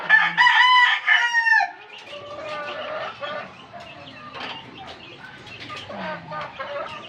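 Gamefowl hens and a rooster: a loud nearby crow at the start, then steady clucking and scattered calls at moderate volume.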